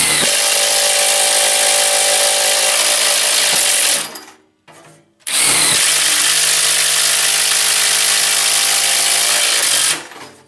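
A Milwaukee Shockwave thin wall hole saw cuts loudly through a metal case, grinding in one steady burst of about four seconds, then a brief pause before a second long, even cut.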